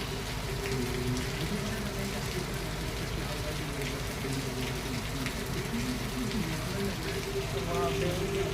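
Steady rain falls and patters on surfaces outdoors, an even continuous hiss throughout, with a faint voice in the background.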